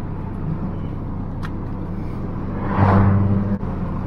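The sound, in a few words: Volkswagen Lupo GTi engine with noisy cylinder head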